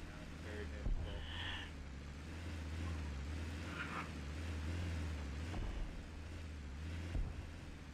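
A car engine driving over hills in the survival video game Rust, a steady droning motor rumble with wind-like noise, mixed with some speech.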